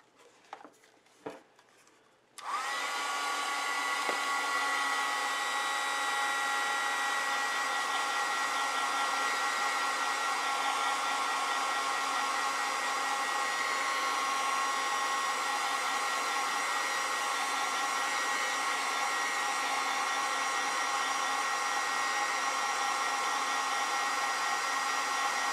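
A hair dryer blows over a watercolor painting, switching on after a few faint taps and then holding a loud, steady whooshing whine at close range for over twenty seconds.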